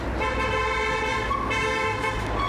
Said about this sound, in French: Voilà il klaxonne. Il me klaxonne dessus.